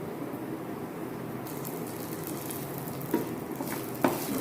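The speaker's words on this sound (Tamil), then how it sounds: "நல்லெண்ணெய் கொஞ்சம் விட்டுட்டு அதில் வந்து மல்லி, சீரகம், மிளகு கூட போட்டு நல்லா பொரிய விடணும்." Coriander, cumin and pepper fry in sesame oil with a continuous close sizzle, broken by a couple of sharp crackles or spoon taps near the end.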